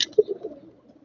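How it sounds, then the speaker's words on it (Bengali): A male racing pigeon, a 25 km tournament bird, gives a short, close, low coo that trails off within a second. "এই যে বাবরা কবুতরটি, এটি একটি অসাধারণ নর কবুতর।"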